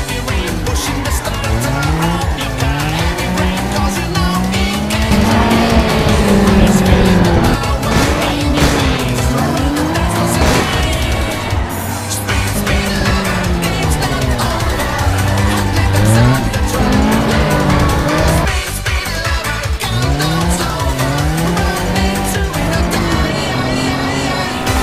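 Toyota 86 race car in Assetto Corsa, mechanically tuned rather than turbocharged, accelerating hard on a mountain pass, with loud engine revs rising and falling through gear changes and repeated tire squeals, mixed with another car's engine close by.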